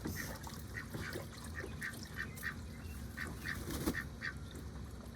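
Ducks being fed and watered outdoors, with a run of repeated quacks and honks rising from a steady background, fairly close and at a moderate level.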